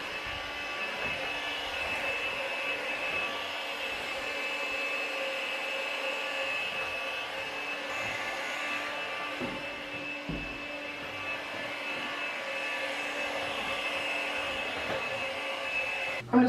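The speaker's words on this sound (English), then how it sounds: "I need a vacuum" A steady, droning motor whine runs without pause, like a vacuum cleaner going continuously at close range, with a faint clunk at the very end.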